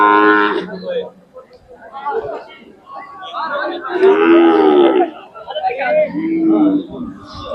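Cattle at a Khilar cow market in Sangola, Maharashtra, lowing with long drawn moos near and loud amid crowd chatter, with people talking throughout.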